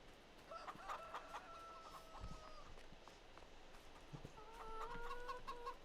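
Chickens cluck repeatedly in the Farming Simulator 22 farming game, sharp clucks in two bursts at the start and end, moderately loud over a steady ambient background.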